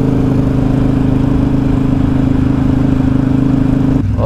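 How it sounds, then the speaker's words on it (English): A 2012 Triumph Speedmaster 865 cruiser motorcycle engine runs while riding, a loud, steady low rumble with strong harmonic drone throughout, shifting pitch abruptly near the end. "This is my 2012 865 Triumph Speedmaster."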